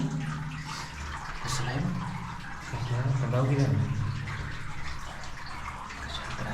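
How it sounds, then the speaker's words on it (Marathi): Water falls and splashes steadily without pause on the Ramling trek, a continuous wash of sound with people talking over it. "पाणी पडायला लागले कायम 24 तास."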